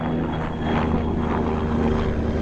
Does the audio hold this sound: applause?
no